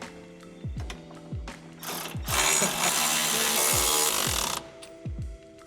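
A ratchet tightens U-bolts on an axle bracket of a Ford F-150 pickup, quick bursts of close metallic clicking pawl strokes, with a denser stretch of rapid clicking and clatter in the middle.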